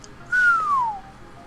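A person whistles a single clear note that slides gently downward, close and loud against a quiet indoor background.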